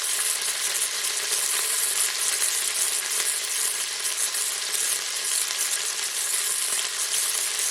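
Pork pieces frying in a pan for a cider pork sauté, a loud, dense, continuous sizzle heard up close with no talking.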